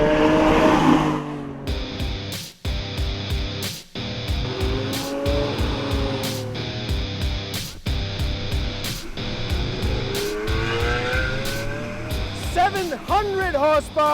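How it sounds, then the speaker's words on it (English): Lamborghini Aventador Roadster with a 6.5-litre V12, loud and close, revving hard with rising and falling engine notes and sharp gear-change cuts, ending in a quick burst of high revs. "Lamborghini wants you to ogle at this menacing, fire-spewing V12."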